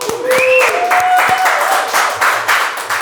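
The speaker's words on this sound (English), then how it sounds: "We can clap up for that." A talk-show studio audience claps in a short burst, with clapping and a rising vocal whoop or cheer layered over it, loud and close.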